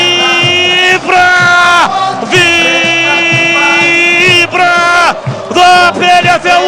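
A Brazilian football crowd at a Ponte Preta versus XV de Piracicaba match roars and chants loudly in the stadium, a sustained wall of massed voices with brief dips, alone without commentary.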